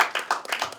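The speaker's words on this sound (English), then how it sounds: "Let's give a big round of applause to our next speaker," A small audience claps briefly for the next speaker at a music workshop in Palau, a few uneven hand claps bunching together over less than a second.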